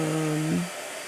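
A blow dryer hums steadily, close and fairly loud, then its pitch drops and it winds down to a quieter whir about halfway through, with no talk over it.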